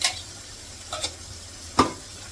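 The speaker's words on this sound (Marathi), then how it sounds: "आलं लसूण पेस्ट घातली ती परतून घेते" Ginger garlic paste sizzles in ghee for pav bhaji, a faint steady fry with three brief spatula scrapes against the pan.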